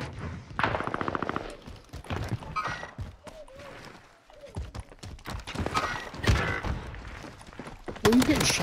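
Gunfire in the video game Warzone on Rebirth Island, a rapid burst of automatic fire followed by scattered shots and in-game effects, mixed with players talking over it.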